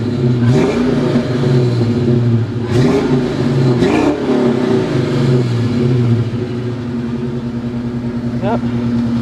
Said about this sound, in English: We'll give it a couple revs